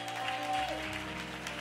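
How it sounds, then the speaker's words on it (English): Church congregation applause during a worship service, a soft, steady wash of clapping beneath sustained organ or keyboard tones. "Clap your hands, all of our first-time people."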